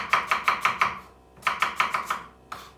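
Rapid knife chops on a cutting board, two quick bursts of about six strokes each, then a single final chop, close and crisp, as vegetables for aubergine kebab are cut.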